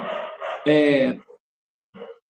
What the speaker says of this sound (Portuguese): É que nossa pessoa está latindo muito aqui, porque chegou uma pessoa.